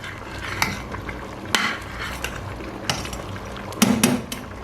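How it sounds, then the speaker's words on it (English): A spoon clinks and scrapes against a metal pot of boiling afang soup in irregular strokes, with a soft bubbling simmer underneath. "It's already boiling, so I'm just going to stir this up."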